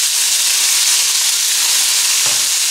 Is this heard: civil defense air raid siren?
no